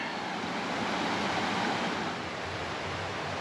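Water rushes steadily at a stream crossing on a wooded hiking trail during a storm, a dense, continuous wash of noise that stays loud and close for the whole stretch with no voices over it.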